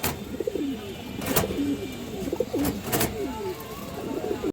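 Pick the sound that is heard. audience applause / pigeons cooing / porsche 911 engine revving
pigeons cooing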